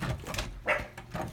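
Small dog barking and yipping indoors, a few quick close barks over a busy, noisy room.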